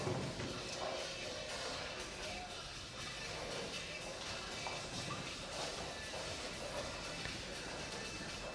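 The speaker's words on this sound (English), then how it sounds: "It's just the train rolling by." A train rolls by during the 2021 NNSBT Players Championship Finals. It makes a low, steady, rumbling hiss with faint rhythmic rail clatter, fairly quiet and sustained throughout, with possible murmurs from people nearby.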